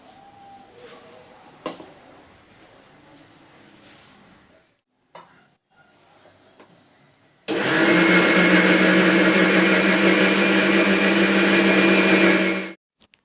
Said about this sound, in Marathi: रवा आणि भात हा मिक्सरला बारीक करून घेते